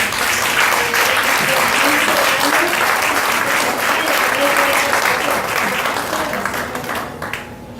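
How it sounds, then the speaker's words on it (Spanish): Loud, full applause from a church congregation rolls on steadily for several seconds, with murmured voices in the crowd, before easing off at the end. "Queremos dar un fuerte aplauso para ella."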